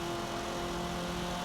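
Renault Megane engine in the racing game Forza Motorsport 7 holds a steady mid-pitched drone with a faint whine, constant and unbroken throughout.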